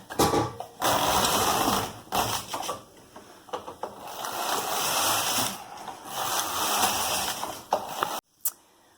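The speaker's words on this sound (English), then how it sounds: "At main stitch size minus tool hole numbers, I'm going to knit 28 rows." A knitting machine carriage running main-colour rows over an e-wrapped hem, giving a loud rushing, rattling sweep that repeats in several passes with brief pauses between, ending in a short clack and quiet.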